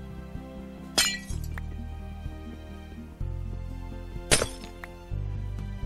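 Tough glass being broken in a workshop, two sharp cracking breaks each followed by clinking shards, set against a low steady hum.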